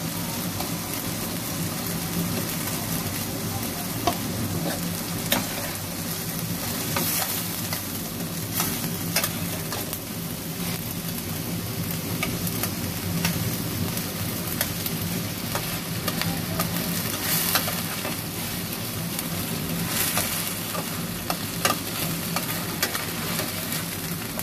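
Pangas fish pieces stir-fry in a spice masala, a steady close sizzle and hiss with frequent scraping and clattering of the spatula throughout, no voices.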